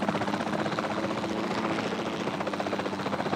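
Helicopter rotor chopping steadily in Jurassic World Evolution 2 gameplay, a continuous loud whirring drone with a fast pulsing beat throughout, no talk.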